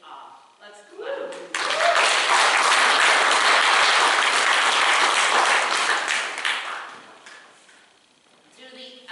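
A church congregation at Summit Congregational United Church of Christ bursts into loud, sustained applause, many hands clapping steadily for several seconds before tapering off, with a voice speaking briefly before and after.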